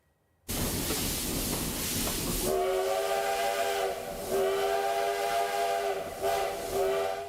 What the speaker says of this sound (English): visit the longest-serving steam locomotive in the province's logging history